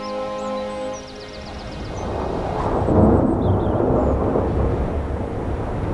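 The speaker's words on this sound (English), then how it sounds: "Just listen to that wind. There's a big storm on the way." Storm wind of an approaching gale swells into a steady, broad roar that builds and holds, loud and close, after a brief stretch of gentle music at the start.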